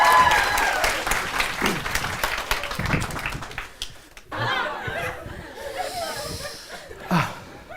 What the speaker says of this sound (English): Give her a big round of applause to begin Time Warp!